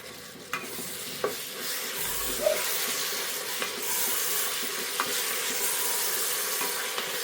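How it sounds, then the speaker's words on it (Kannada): Chopped tomatoes with a little salt fry in a hot pan for tomato bath, a steady close sizzle broken by occasional scrapes and clicks of stirring, with no talking. "ಟೊಮೊಟೊ 2 ನಿಮಿಷ ಸಾಫ್ಟ್ ಆಗೋದಂತ ಈ ಥರ ಫ್ರೈ ಮಾಡ್ಕೊಳ್ಳೋಣ"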